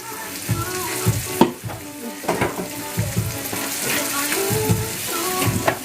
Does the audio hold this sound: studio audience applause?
no